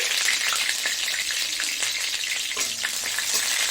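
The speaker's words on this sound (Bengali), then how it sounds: "কারি পাতা আর জিরা ফোড়ন দিচ্ছি" Curry leaves and cumin seeds tempering in hot oil, a loud, dense, close hiss and crackle of vigorous frying that holds steady throughout, with faint stirring and no voices.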